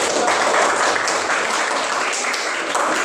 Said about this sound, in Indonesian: yang berikut kita beri aplaus kepada kelompok 3